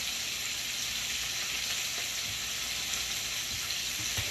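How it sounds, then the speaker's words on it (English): Steady, dense sizzling of chicken frying in hot oil, a continuous crackling hiss with occasional small pops, close by and without talk. "I also don't want to be frying chicken all day neither"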